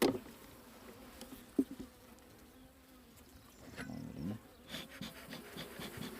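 Honeybees buzz faintly around an apiary hive on an overcast day, a low hum with a few sharp knocks and handling noises close by.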